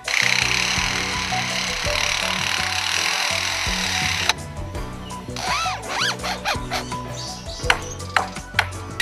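A lyrebird's call mimics construction power tools, with whirring drill-like buzzes, clicks and rising electronic pings in rapid, irregular bursts.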